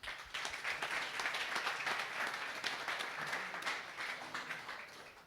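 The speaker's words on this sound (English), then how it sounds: "So let's welcome her with a round of applause." Audience applause for a conference speaker at a talk on visual foundation models, steady and full for about five seconds, then tapering slightly at the end, with no talking over it.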